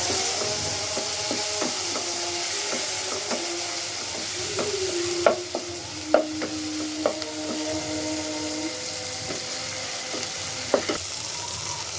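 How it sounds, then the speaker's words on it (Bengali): Spice paste of garlic paste, ginger paste and turmeric powder frying in a pan, with a steady close sizzle and occasional knocks and scrapes as a spoon stirs it. "মশলাটা কষানো হয়ে গেছে।"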